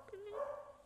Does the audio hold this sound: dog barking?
yes